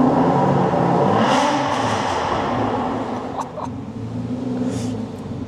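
Aston Martin V12 Vantage Roadster engines fire up and rev, a loud, dense roar that swells at the start and then eases toward a lower, steady idle with short revving bursts.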